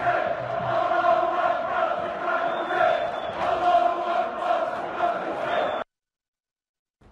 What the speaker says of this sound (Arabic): هذا هو هتاف الجمهور المنحط السخيف الوقح